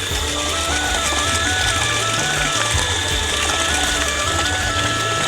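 A motor pump fills water for buffaloes, a continuous splashing flow over a droning motor with music playing underneath, steady and close throughout.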